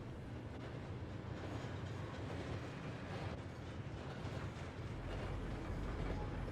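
A train ride in the video game Hogwarts Legacy: a continuous, loud rumble of rolling carriages with a steady clickety-clack of wheels on rails, unbroken throughout with no voices.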